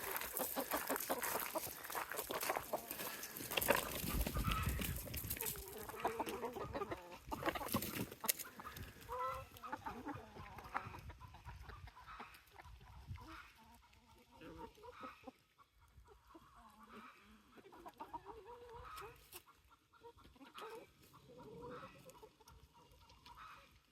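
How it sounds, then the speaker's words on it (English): Chickens cluck in short, scattered bursts, fairly close, mixed with background noise and shuffling. "Chickens."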